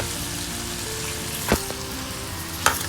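Chopped tomatoes hit onions frying in a pan for tuna masala, a steady loud sizzle throughout with two brief sharp spikes as pieces drop or are stirred, close up and free of talk.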